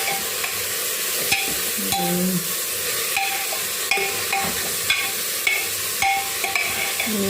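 Onions and green chilies fry with a steady sizzle in a pan, punctuated by repeated sharp spatula scrapes and knocks against the metal at a close distance.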